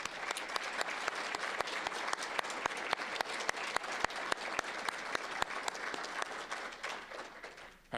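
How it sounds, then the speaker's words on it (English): An audience at a Phi Theta Kappa induction ceremony applauds for Dr. Bill Pink, crisp dense clapping sustained evenly for several seconds before tapering off at the end. "Can we get a round of applause for Dr."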